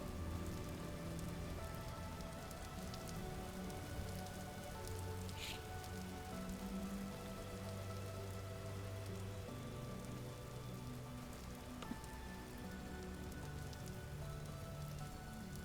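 Steady, faint rain patters on surfaces in the video game Vintage Story, a continuous soft hiss lasting about fifteen seconds with no voices.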